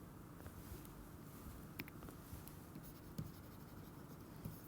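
Chalk or marker scratching and tapping on a board during a tensor algebra lecture, faint irregular strokes over a quiet room with a few sharper taps and no speech.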